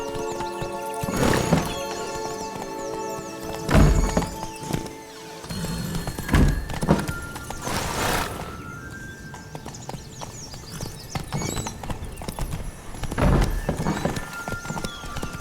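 Horse hooves clip-clopping at a gallop in The Witcher 3 video game, a steady quick rhythm of close, loud hoofbeats with occasional heavy thuds and a brief whinny.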